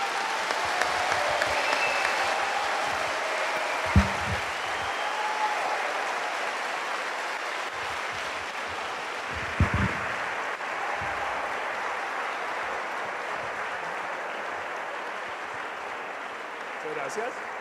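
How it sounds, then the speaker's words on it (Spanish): An audience at a talk on caricature and satire applauds steadily and fairly loudly for a guest, a sustained wash of clapping with a few sharper claps standing out. "un aplauso para Vlado"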